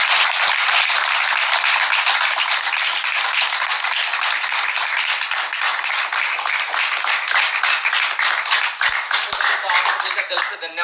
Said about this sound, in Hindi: तो जोरदार तालियों के साथ बुलाइए